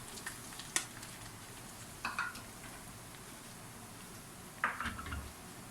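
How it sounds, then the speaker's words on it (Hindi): Bread fries in a pan with cardamom, giving a faint, steady sizzle broken by three brief scrapes and knocks as it is stirred. Quiet and close, with no talk. "अब मैं ये साथ ही ब्रेड शामिल करूँगी।"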